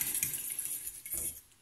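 A utensil stirs beef and potato tajine in a pot, with faint scraping and light metallic clinks in short irregular bursts, close but quiet.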